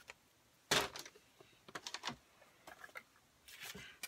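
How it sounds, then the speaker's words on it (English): An ATG adhesive tape gun rolling glue onto a card panel, a few quick ratcheting clicks and short scraping bursts, quiet and near, with no talking. "I'm just going to glue it to a card base using my ATG."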